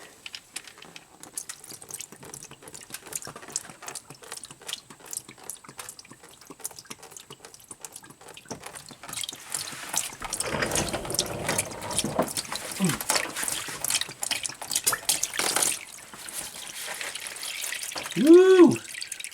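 Old fluid drains from a 1994 Lexus ES300, starting as sparse drips that grow into a fuller trickling stream, with a voice talking over it near the end.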